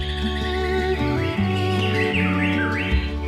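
A white-rumped shama (murai batu) sings bright, sweeping whistled phrases over a steady, sustained low tonal drone.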